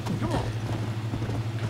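Horse hooves clip-clop in a quick, even trot in the video game Red Dead Redemption, with steady rhythmic thuds over a low background hum and brief speech mixed in.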